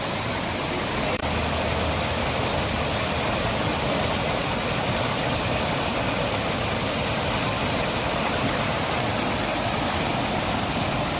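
Water flows in a stream at Godavari Park, the National Botanical Garden, a constant broadband rushing that stays loud and unbroken the whole time.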